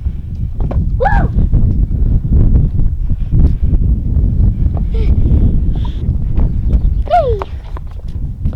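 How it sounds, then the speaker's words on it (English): Strong spring wind rushes steadily across a homestead valley, a constant dense roar buffeting the microphone, with short bird calls breaking through at moments. "It has been super windy here the last 24 hours."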